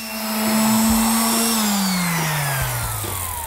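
Electric palm sander running steadily on rough pallet wood, a continuous close motor whine with a high pitched tone that drops slightly partway through, heard alone without talk.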